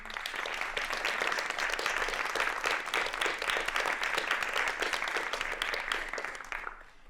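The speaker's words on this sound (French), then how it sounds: "je voudrais qu'on les applaudisse" An indoor audience at a French-speaking gathering bursts into sustained applause, many hands clapping close and steady for about seven seconds before fading out at the end.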